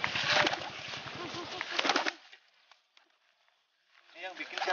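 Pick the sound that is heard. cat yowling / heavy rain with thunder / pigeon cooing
pigeon cooing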